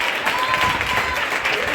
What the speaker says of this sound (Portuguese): Melhora essas palmas para dar para Ele